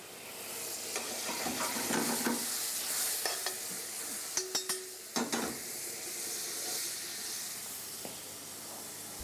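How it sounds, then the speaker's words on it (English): A potato and mussel sauce with olive oil simmers and sizzles in a pan while a utensil stirs and scrapes through it, a close, steady frying hiss with several sharp clinks partway through. "The sauce is really reduced the way I want it, nice, and it's getting a little bit thicker."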